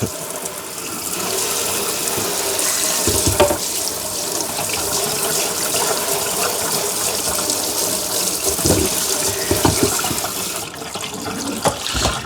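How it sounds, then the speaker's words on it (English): Hot tap water runs steadily, splashing as something is rinsed off, a continuous loud hiss of flow with a few brief clunks and shifts in the stream, and no talking. "I'm gonna rinse this off real quick with hot water"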